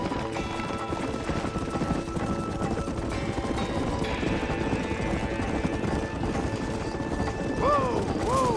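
Horses galloping across open country in the video game Red Dead Redemption, with steady clip-clop hoofbeats running the whole stretch beneath game music and occasional voices.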